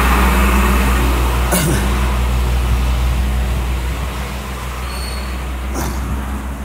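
A heavy air compressor running at a borewell, a loud, constant low drone and rumble filling the whole span, with brief rattling bursts and a faint high whine partway through.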